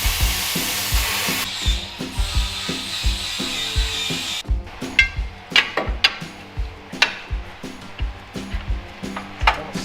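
A power tool cuts out small metal pieces during work on a Jeep YJ: a steady harsh hiss for about four seconds, then a run of sharp, irregular knocks and taps close by.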